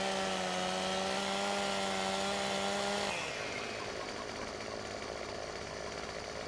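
Chainsaw cutting a tree in the video game Farming Simulator 2015, a loud steady buzzing saw whine for about three seconds that then drops to a lower, rougher engine drone.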